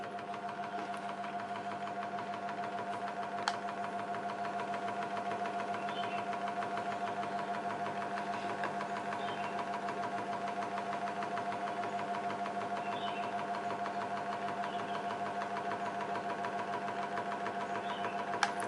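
A Pazto 16-inch scroll saw running at its slowest speed produces a steady, faint motor hum with an even, fine mechanical chatter, unchanging throughout.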